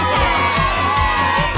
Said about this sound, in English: Peppa and George shouted with excitement.